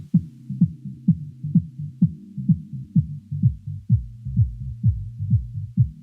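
A muddy music mix with a boomy low end plays alone, driven by steady, regular low thumps about twice a second under a droning hum.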